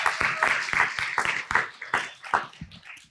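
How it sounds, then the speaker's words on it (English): Audience at a Poetry Out Loud event claps for poet Jay Rice, with a few distinct, fairly close hand claps in an uneven rhythm that fade out over about three seconds. "clap it up one more time for Jay Rice, everybody."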